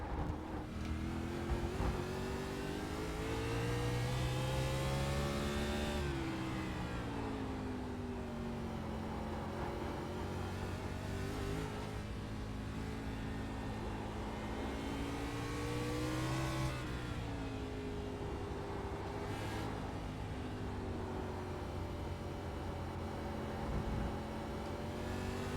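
Race car engines during a practice race on the Roval road course: continuous loud engine roar that rises and falls through repeated acceleration and gear changes, a dense layered drone from several cars with no speech.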